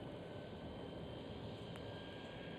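An airliner rolls along the runway at Amsterdam Schiphol airport, heard as a steady, distant broadband jet roar that holds evenly throughout, with no voices over it.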